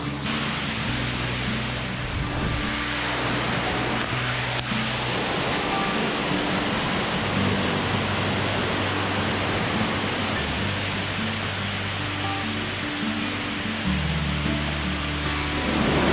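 Ukhalu waterfall near Chandoli Dam roars as a steady, dense wash of falling water, loud and constant throughout with no voices.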